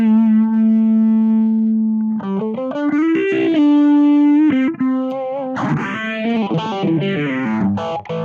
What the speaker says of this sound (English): So on this sound I want to add some phaser,